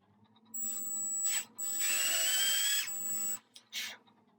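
A small drill bores into a plastic button for a vintage guitar tuner, three close whining bursts with a steady high tone, the longest in the middle, separated by short pauses, and no speech.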